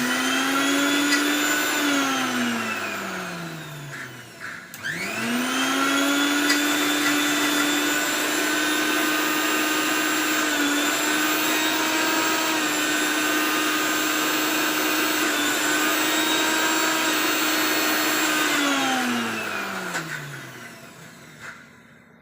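A mixer grinder churns soaked dal into a coarse paste, its motor whining loud and steady for two long runs with a brief stop between them, pitch dropping as each run winds down.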